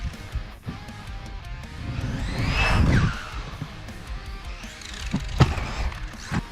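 A Losi Mini B brushless RC buggy drives outdoors, its electric motor whining up and down with throttle bursts and passes, swelling loudest in the middle and fading, with tire scrabble and scattered clicks.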